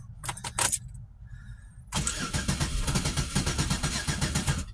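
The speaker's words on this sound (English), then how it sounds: "It starts, runs for 2 or 3 seconds, and dies." A car engine with a wiring harness fault cranks and catches into a loud, steady rumbling run close by, after a few short clicks and rattles, and keeps going to the end without dying.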